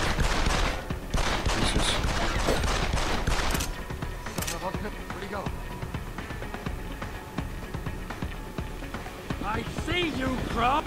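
Gunfire from the video game Deus Ex: Human Revolution Director's Cut, heard as dense rapid bursts over the first few seconds. Quieter game sounds follow, and someone talks throughout.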